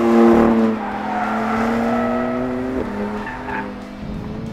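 A BMW M4 with a twin-turbo 3-litre engine is driven hard, its tyres squealing loudly and steadily while the engine note rises and shifts over a few seconds.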